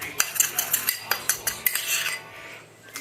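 Metal spoon scooping salt and pepper seasoning and sprinkling it over chips in an air fryer tray, heard as a close run of quick clinks and scrapes with light rattling and no talk.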